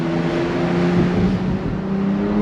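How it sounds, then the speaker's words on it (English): A 2024 Porsche 911 Turbo S with the top down, accelerating on throttle with a steady droning engine note under strong wind and road noise, continuous and fairly loud. "we have the top down, and we're gonna go on throttle here"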